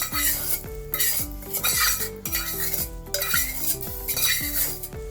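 A spoon stirs boondi laddu mixture in a metal pan, scraping and clinking in a steady repeated rhythm, close and clear with no talking.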